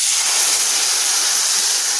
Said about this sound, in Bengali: এবার আমরা এর মধ্যে এই মশলার মিশ্রণটা ঢেলে দেব